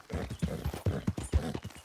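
Horse hooves clip-clopping at a walk in the Red Dead Redemption 2 video game, a steady rhythm of close, distinct thuds throughout, with no talk over them.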